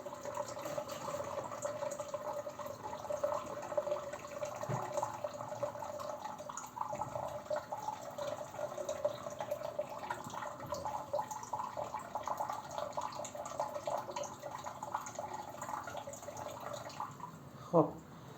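Water pours steadily into a planted aquarium with a soft, continuous trickling and splashing. The sound is close and fairly faint, with a brief knock near the end.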